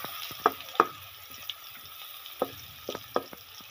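Garlic ginger paste fries in a pot for aloo handi, giving a quiet bed of sizzle broken by several sharp pops and crackles scattered irregularly through the stretch, with no voices.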